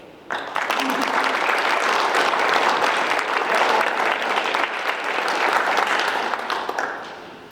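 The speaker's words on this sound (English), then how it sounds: "Please give Sam another round of applause." Sustained applause from a sizeable crowd at a high school basketball awards ceremony, steady and dense throughout before tapering off at the end.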